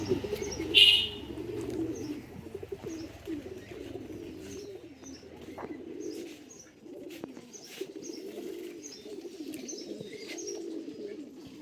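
Racing pigeons of a Palla generation line coo softly in a loft, their low murmuring calls repeating steadily beside occasional faint chirps.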